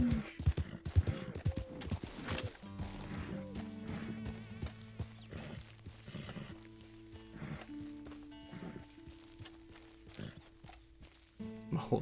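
Horse hooves clip-clop in a steady walking rhythm while riding in Red Dead Redemption 2, close and clear, with musical tones and a few brief game sounds mixed in.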